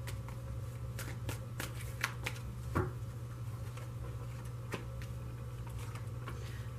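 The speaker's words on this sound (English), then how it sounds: "but I'm only going to shuffle it for a moment more." A deck of tarot cards being shuffled by hand, with a steady run of soft riffling and patting strokes, close and fairly quiet, no talking.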